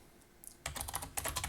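Computer keyboard typing, close and fairly quiet: a quick run of clicking keystrokes starts after a short pause, then a second burst follows, with no speech.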